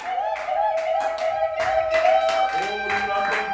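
A church congregation clapping in quick rhythmic bursts while a voice carries on over it, the claps close and steady throughout.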